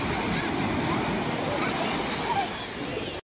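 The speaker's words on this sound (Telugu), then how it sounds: "ఇప్పుడు అక్కడ అలల సప్పుడు చూడండి ఒకసారి" Ocean waves breaking on Calangute beach in North Goa, a steady close wash of surf with wind over it for a few seconds.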